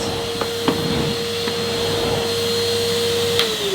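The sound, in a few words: Hetty Next 200 vacuum cleaner on thick Saxony pile carpet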